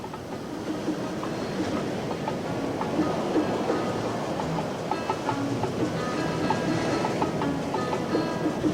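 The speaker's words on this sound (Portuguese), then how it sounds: "Quando o mar está revolto e as ondas gigantescas batem nas encostas, o Malecón também é golpeado pelas ondas" Rough sea surging against the Malecón seawall in Havana, a continuous loud rushing wash of water with no clear breaks, heard up close without voices.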